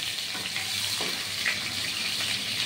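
Potatoes are slid into hot oil and fry with a steady, soft sizzling hiss and faint crackles, close by and continuous without any talk.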